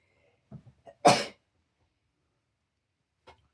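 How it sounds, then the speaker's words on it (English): A single loud sneeze, preceded by a few soft breaths and sniffs, then near silence with a faint click at the end. "Hang on, I'm just going to sneeze."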